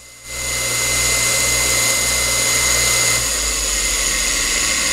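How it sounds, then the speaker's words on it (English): AO Smith stationary electric motor switching on and spinning up to a loud, steady whine with a constant hum underneath, the pitch settling slightly partway through; nobody speaks. "go ahead, man. Turn this motor on."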